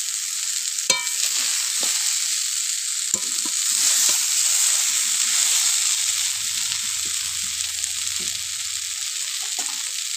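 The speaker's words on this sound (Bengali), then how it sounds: "খুন্তি দিয়ে একটু নাড়িয়ে নিলাম।" Fried ruli fish with slit green chillies sizzles in a pan with a steady, loud hiss while a spatula stirs, adding a few sharp scraping clicks.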